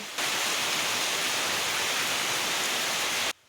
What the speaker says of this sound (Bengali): হঠাৎ দেখছি ঝুম বৃষ্টি শুরু হয়ে গেল